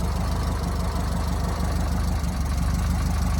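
A dune buggy engine idles steadily with a rough, knocking rhythm and a low transaxle growl, close and continuous without talk.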